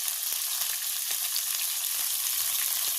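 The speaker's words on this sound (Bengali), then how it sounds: "ফুলকপিগুলোকেও আমি লাল লাল করে ওই তেলের মধ্যে ভেজে নিচ্ছি" Cauliflower florets fry in hot oil with an even, steady sizzle and crackle throughout, close and uninterrupted, with faint pops scattered through it.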